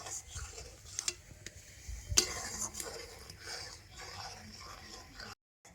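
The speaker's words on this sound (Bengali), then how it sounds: "দুধটা কিন্তু ভালো মতো ফুটে গেছে, আর এইভাবে ফুটিয়ে দুধটাকে কিন্তু একটু ঘন করে নিতে হবে" Milk boils down in a pan while being stirred, with soft, irregular scraping and light bubbling, plus a sharper clink of a utensil against the pan.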